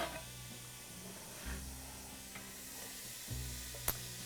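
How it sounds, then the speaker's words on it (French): Chopped onions go into a hot pan for lentils, giving a faint, soft sizzle with a few brief stirring scrapes and a small click. "Je vais d'abord ajouter les oignons."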